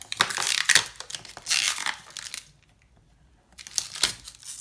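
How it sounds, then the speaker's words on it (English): Thin protective plastic film is peeled off a new paper trimmer, giving crinkly, crackling tearing in two close bursts, then a short quiet gap before more peeling. "There's a little film you need to peel up."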